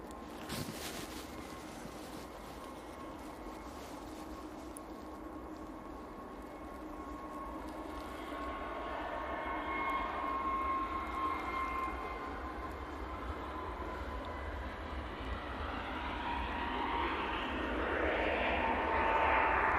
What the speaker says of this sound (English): Jet2 321 now on the roll.